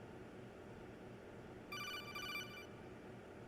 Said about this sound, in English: I recognize that phone